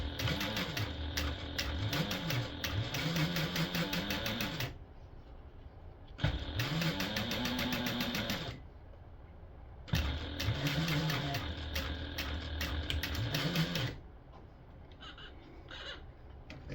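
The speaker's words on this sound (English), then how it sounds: "I'm top stitching all the way across the pocket" Sewing machine top stitching across the raw-edged pocket of a stadium bag, running in three bursts of rapid, rhythmic stitching, each several seconds long, separated by short quiet pauses, close and clear.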